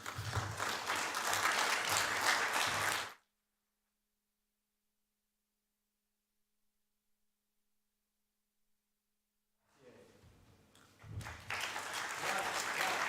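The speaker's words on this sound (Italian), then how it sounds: "Un applauso a Viola Graziosi." An Italian audience at a cultural event gives applause in two bursts, a loud dense round of clapping at the start, then near silence, then clapping that builds again toward the end.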